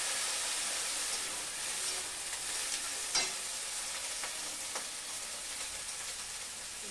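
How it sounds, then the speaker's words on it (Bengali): Kohlrabi pieces fry in a pan with a steady, close sizzle and hiss, and a few brief stirring scrapes come through near the middle of the clip. "আমি ওলকপি এটা একটু ভেজে নিচ্ছি"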